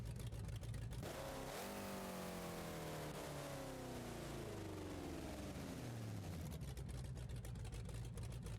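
A front-mounted Hemi V8 in a six-wheel monster truck in BeamNG.Drive revs hard, its pitch sweeping up and then winding down in a long, loud, steady engine roar with no talk over it.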